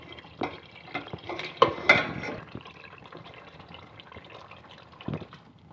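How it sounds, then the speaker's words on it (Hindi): Fried chicken tipped into a pot of simmering masala for restaurant-style handi chicken, giving a few wet sizzling splashes and clatters near the start, then a quieter bubbling and stirring texture with one more soft thud near the end. "मैंने इसमें सारी चिकन ऐड कर दी मसाले।"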